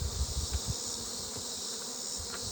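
Honeybees buzz at a hive in a soft, steady hum, faint and close, with a few low bumps and handling noises under it and no talk.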